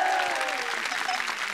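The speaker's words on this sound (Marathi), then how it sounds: "जोरदार टाळ्या एकदा" A studio audience at a Marathi television show claps loudly and steadily, dense continuous applause filling the whole moment with a faint voice underneath.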